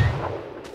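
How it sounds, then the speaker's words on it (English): A rocket weapon sound effect in the game Rising Storm Vietnam gives a single sharp, loud crack like a firecracker, with a short decaying tail. "It sounds kind of like a Chinese firecracker."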